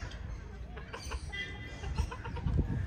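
Chickens of bantam and other breeds cluck close by in a busy, overlapping jumble of short calls over a rumbling background, growing slightly louder toward the end.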